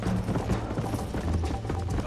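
Rhythmic hoofbeats of a galloping horse in the video game Red Dead Redemption, steady and fairly loud over a low rumbling game soundtrack.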